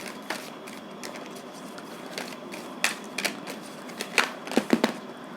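Keepers of the Light oracle cards being shuffled and drawn, heard as soft papery flicks and sharper snaps that gather into a quick cluster near the end, close against a quiet room.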